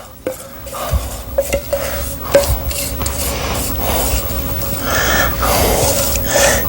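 A rubber spatula scrapes melted chocolate around a pot in steady, close, rasping strokes with occasional soft clinks against the pan.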